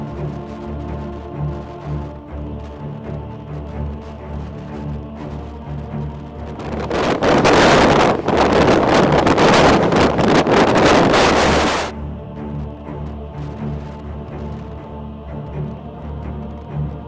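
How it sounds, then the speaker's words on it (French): Strong wind gusting across a rocky ridge top in bitter cold, a loud roaring buffet that swells for several seconds over a lighter steady rush of wind on the microphone, then eases back. "il fait un vent, vous avez l'impression d'être en Sibérie"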